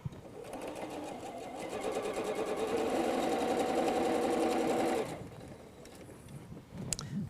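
A sewing machine runs steadily for about four and a half seconds, its motor hum rising slightly as it stitches quilt pieces together for a star wall hanging, then stops, leaving quiet room noise and a faint click.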